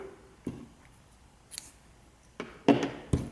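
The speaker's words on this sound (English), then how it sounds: "go ahead and cut your yarn" Scissors snip crochet yarn, a few short sharp clicks and cuts spaced over a few seconds, close by in a quiet room.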